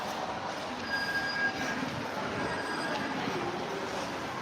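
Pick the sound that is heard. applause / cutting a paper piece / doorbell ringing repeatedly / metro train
metro train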